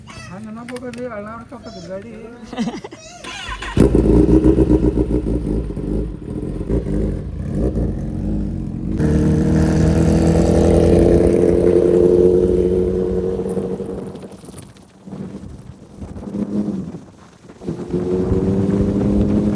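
A Kawasaki ZX-10R superbike engine revs while being ridden, a loud droning roar that climbs and falls in pitch over several long pulls, broken by short dips and gaps.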